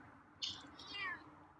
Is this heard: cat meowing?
yes